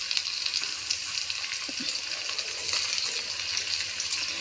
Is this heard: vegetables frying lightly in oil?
yes